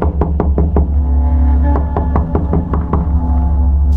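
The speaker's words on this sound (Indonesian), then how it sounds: "Berulang Hima mengetuk pintu, namun tidak ada jawaban dari dalam." Knuckles rap on a wooden door in two separate bursts of several firm knocks each, close and clear over a steady low hum, and no reply follows.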